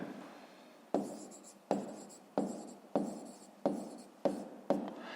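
A pen writes the answer to a fifth-grade maths exercise by hand on paper, seven or so crisp scratchy strokes falling in a steady rhythm, close up and alone, with no voices.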